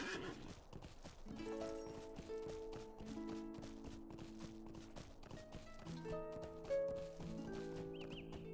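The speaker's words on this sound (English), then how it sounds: "Get on our horse. Get there a little quicker." A horse gallops in the video game Lord of the Rings Online, with rapid rhythmic hoofbeats and a whinny over sustained tonal background music.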